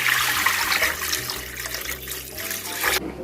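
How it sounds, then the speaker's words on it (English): Water poured into a crock pot holding chicken bones, a steady broad splashing rush lasting about three seconds before cutting off, close and fairly loud with no talking. "I'm adding water. This is my crock pot."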